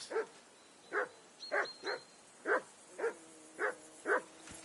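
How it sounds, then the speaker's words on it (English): A dog barks repeatedly in the medieval role-playing game Kingdom Come Deliverance 2, giving eight evenly spaced, moderately distant woofs over a faint background hum with no talk. "I assume you can hear that damn dog of yours barking."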